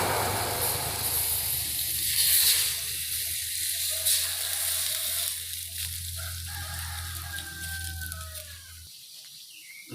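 Sprite poured into a hot pan sets off a steady, loud hissing sizzle that fills most of the moment, with faint squeaks on top before it cuts off abruptly near the end.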